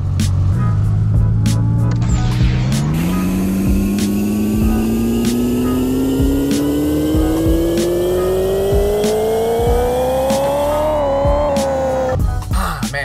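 Simulated car engine in the Pixel Car Racer game, held on a two-step launch limiter, its steady loud drone climbing gradually in pitch for about ten seconds before dropping off near the end, with no talk over it.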